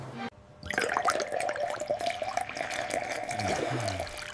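Real water runs through a LEGO water park, flowing and trickling steadily with splashy, bubbling texture after a brief quiet start, close and moderately soft, with no talking.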